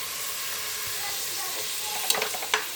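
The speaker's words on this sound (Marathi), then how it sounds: "तर परतून झाल्यानंतर छान असं आलं लसूणची पेस्ट टाकायची." Ginger garlic paste sizzles steadily in a hot pan for an egg rice dish, a close, continuous hiss broken by a couple of brief clinks of stirring near the end.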